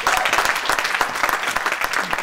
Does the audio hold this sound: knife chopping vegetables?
no